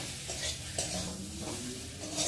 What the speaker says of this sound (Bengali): দিয়ে ভালো করে কষিয়ে দেবো।